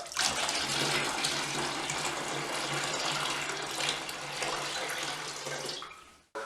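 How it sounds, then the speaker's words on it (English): Water poured from a container into a paint mix for a mist coat on fresh plaster, a steady continuous splashing gush lasting several seconds before stopping abruptly. "So what we'll do now is we'll decant some water into there."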